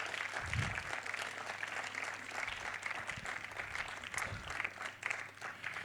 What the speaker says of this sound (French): Je pense qu'on peut commencer par des applaudissements pour Invisible Demons qu'on vient de voir de Rahul